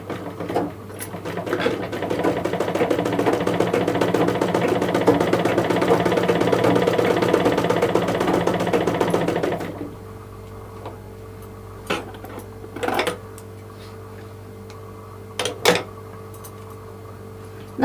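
A sewing machine stitches fabric in a steady, close run of about ten seconds, then stops, leaving a low hum and a few scattered clicks and handling sounds.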